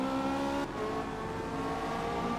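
A Zenvo TSR-S supercar engine in the Forza Motorsport racing game holds a steady, dense high-revving drone, loud and continuous with a brief shift in pitch early on, with no talk.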